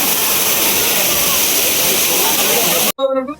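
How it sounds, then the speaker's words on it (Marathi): A waterfall beside a cave temple at Ozarde in Maval, near the Mumbai–Pune Expressway, gives a loud, close, continuous rush of falling water that cuts off abruptly near the end as a voice starts. "बघू शकता समोर धबधबा आहे, इथं गुहा आहे."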